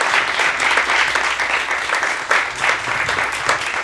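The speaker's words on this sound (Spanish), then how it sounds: "Pues démosle un aplauso que nos solidarizamos y se reconocemos" A crowd at a commemoration in Cuernavaca bursts into loud, dense applause, with many hands clapping steadily throughout and the sound swelling slightly partway through.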